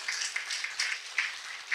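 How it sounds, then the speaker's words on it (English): Audience applause for a professor at a Kenya Bankers session, a steady broadband patter of hands at moderate level with slight swells, no voices over it. "One last round of applause for Professor."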